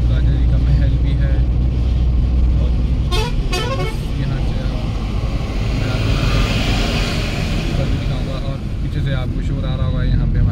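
HRTC buses and a Jeep Compass race along a mountain road, making a loud, continuous engine roar with a few short horn toots partway through.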